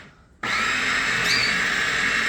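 A blender whips eggs until frothy, starting abruptly after a short quiet moment and then running as a loud, steady, high-pitched motor whine that holds continuously to the end.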